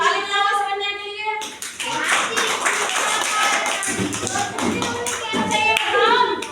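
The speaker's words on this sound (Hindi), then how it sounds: "ताली बजाओ" A group of children clap their hands together in a classroom, a dense burst of rapid overlapping claps that starts abruptly after a short sung or spoken phrase. It stays fairly loud and close, with some voices mixed in.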